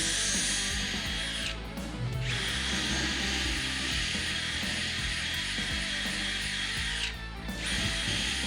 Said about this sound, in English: pre-drill the holes for the 3/8 inch mounting lag screws with a 5/16 inch